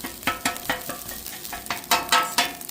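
Cooked rice fries on a Blackstone griddle during a backyard teppanyaki cook, with a spatula scraping and stirring it in a quick, repeated rhythm over a steady close sizzle.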